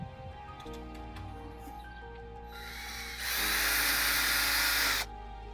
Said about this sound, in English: you're putting your screw into that hole and drilling it in